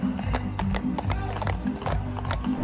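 Horses clip-clop along the 2022 Houston Livestock Show and Rodeo Parade route, a rhythmic run of hoof strikes on pavement, fairly close, over a low crowd murmur and background rumble.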